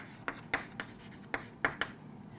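Pen strokes of someone writing out integral maths working, quick separate scratches in an uneven rhythm, close and fairly quiet with no talk.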